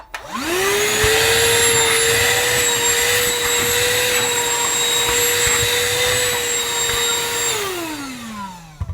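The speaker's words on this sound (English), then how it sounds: "I can vacuum it first, but I know for a fact that it's not going to remove all of that" A Shark cordless handheld vacuum, Pet model, cleans toast crumbs from a toaster's crumb tray: the motor whirs up, holds a loud, steady whine for about seven seconds, then winds down, with a few knocks at the end.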